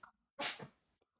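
A single sharp sneeze, close and abrupt after a short intake of breath, followed by quiet.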